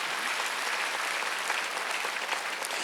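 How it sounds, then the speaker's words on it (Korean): A church congregation claps together during a Wednesday worship service at Jesus-Centered Church, a steady, full wash of applause lasting a few seconds with no voices over it. "박수 하나 더 주세요."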